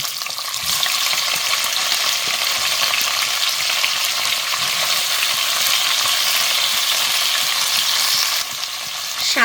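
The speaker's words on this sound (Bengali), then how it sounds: "এখন হচ্ছে ভালো করে একটু ব্রাউন করে ভেজে নেব এই যে দেখেন দিয়ে দেব শুরু থেকে যে রাখা শুটকিগুলো" Dried fish (shutki) frying in hot oil until brown gives a loud, steady, dense sizzle that hardly changes, with a few faint stirring sounds under the crackle.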